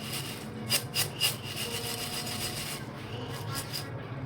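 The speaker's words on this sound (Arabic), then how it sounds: "غنخلي لكم الصوت الاصلي باش تسمعوا التقرميشه ديال هاد الثومه." Dried, sieved garlic pieces are handled by hand, producing quiet, dry crunching and rustling with a few sharper crisp bursts scattered over a low background.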